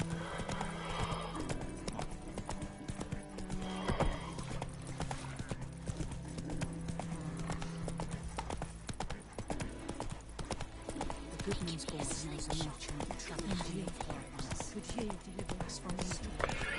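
Roach, a horse in The Witcher 3, gallops with rapid rhythmic hoofbeats, snorts and a whinny, set against game ambience and background sound, with a voice briefly speaking.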